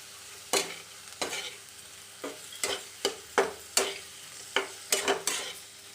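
A spoon stirs grated coconut into cooked mango pickle with jaggery and chilli in a pan, about a dozen sharp scraping strokes at an uneven rhythm, close and fairly quiet.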